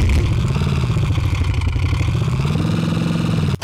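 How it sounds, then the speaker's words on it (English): Synthesized car engine sound effect made with Tsugi DSP Motion software, a steady mid-pitched engine rumble with rough revving texture that holds continuously, loud and close, then cuts off abruptly near the end. "Car engine"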